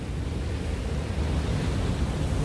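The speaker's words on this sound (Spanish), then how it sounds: "ahí vino una serie de lindas olas" Ocean waves breaking steadily on the shore during a fishing outing by the sea, a dense continuous roar of surf with wind buffeting the microphone, no voices.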